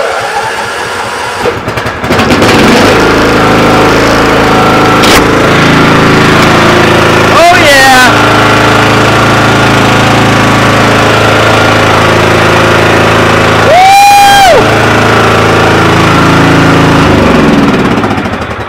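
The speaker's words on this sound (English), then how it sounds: "Now that's a lawnmower." A Craftsman lawn tractor engine starts after sitting for two months with the choke on, then runs loudly and steadily for a long stretch, its drone steady with a few brief whines over it.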